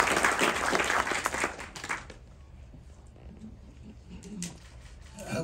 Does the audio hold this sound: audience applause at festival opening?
yes